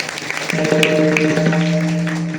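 An audience claps steadily for a child's parents at a devotional kirtan gathering, the applause continuous and fairly loud beneath sustained, harmonium-like musical tones.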